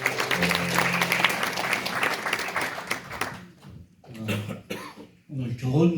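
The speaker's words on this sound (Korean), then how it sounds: "다시 한번 박수 한번 보내주시죠." A ceremony audience marking a memorial association's 50th anniversary claps in a dense burst of applause for about three seconds, with a cough, then a voice speaks as the clapping fades.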